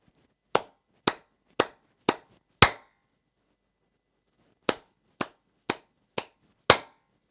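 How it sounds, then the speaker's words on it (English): Ten sharp, isolated hand claps in two groups of five separated by a pause, each crisp and close with a quick decay. Accents shift between louder and softer strikes, and the final clap of each group lands hardest. "the first one was very loud, the second clap, soft, the third one, loud, and then the fourth one, also soft"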